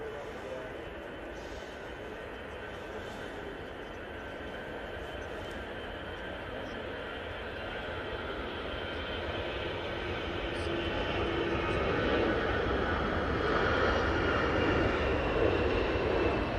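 An easyJet airliner bound for Dalaman rolls for takeoff at Manchester Airport, its engine roar distant at first, then building and swelling louder over the final seconds, with a voice speaking over it at times.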